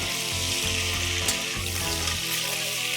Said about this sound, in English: I'm going to saute this for 5 minutes on a high flame.